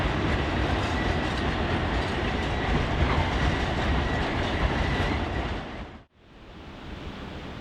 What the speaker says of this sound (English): the train once again addresses the Dead River Bridge, this time with dynamics and air brakes howling